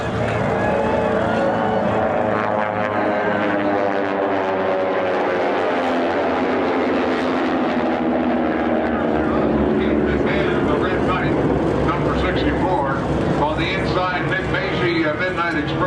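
A C-130 military transport plane takes off at an air race, its heavy propeller drone loud and continuous, with a commentator talking over it the whole time.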